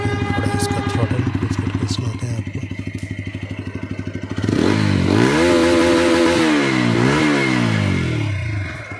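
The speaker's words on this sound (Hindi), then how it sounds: "इसका एग्जॉस्ट साउंड सुनाने के लिए तो अभी हम स्टार्ट करते हैं बाइक" A 2024 TVS Apache RTR 160 4V special edition motorcycle idles with a steady, rapid exhaust putter, then revs up and down several times, loud and close.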